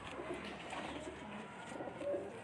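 A pure Baloch female pigeon coos softly in low, muffled bursts amid faint background noise.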